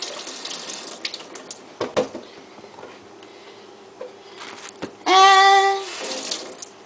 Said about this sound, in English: Wash your cauliflower.